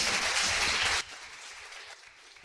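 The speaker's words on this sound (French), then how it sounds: "Je vous propose d'applaudir un peu nos" Audience applause for the round-table speakers at an event on volunteer work against over-indebtedness, a full burst of clapping that cuts off sharply after a second, leaving quieter scattered room noise.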